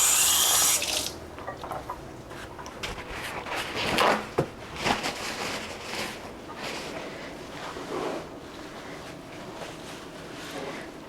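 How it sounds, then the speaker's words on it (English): Hands being washed under a running kitchen tap at a sink, a steady close water rush with splashing bursts and brief clunks, no talking. "I'll wash my hand off."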